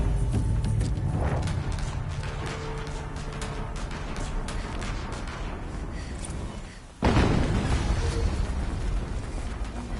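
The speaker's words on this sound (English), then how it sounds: "Another explosion." Rumbling explosions roar continuously in the video game Horizon Zero Dawn Remastered, a dense loud blast texture with a brief dip before a fresh heavy burst erupts and carries on.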